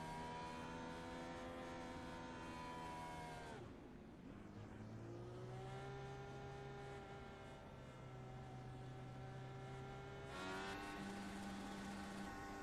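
An Indianapolis 500 race car engine drops through the gears down to first and strains at high revs, a loud continuous whine that falls, holds, then climbs again on a racetrack.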